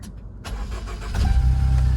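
A 2017 Bentley Continental GT with a low battery warning and a check engine light is push-button started: a brief starter whir, then the engine catches and settles into a loud, deep, steady idle, close by.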